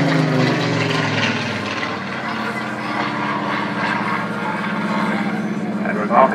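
A 1930s-designed fighter with an elliptical wing flying at the Southport Airshow 2012, a steady propeller engine drone heard at a distance, with a voice talking over it throughout.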